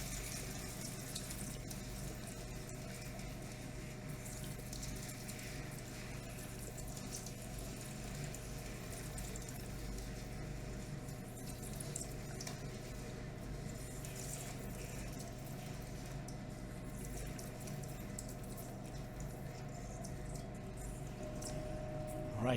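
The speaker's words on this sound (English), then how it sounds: "we're going to pour it into our tank of water here and make some nice" Molten gold being poured into a tank of water to form granules, giving a steady, continuous watery rush with a low hum from nearby equipment, no voices.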